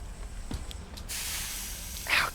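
Steam hisses in the video game Voidtrain, a steady broadband rush that starts about a second in and holds to the end, with a sharper spurt near the close and a few faint clicks before it.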